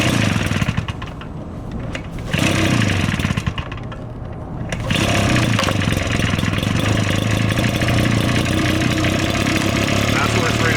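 Schröder SR-640L leaf blower's small two-stroke engine firing up after pull-starting on half choke, sputtering briefly, then settling into a steady, loud, close idle with someone speaking over it.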